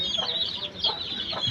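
Native Darag chickens, partly crossed with Kabir, cluck softly on a farm, a few short clucks close by against a low murmur of background noise.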